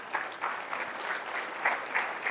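Applause from a summit audience honoring steering members of a creative placemaking plan, a steady dense clapping from a crowd across the whole stretch, fairly close and even in loudness.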